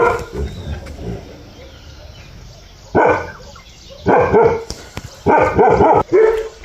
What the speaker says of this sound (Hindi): अपने भौंकने में लगे, कुछ नहीं है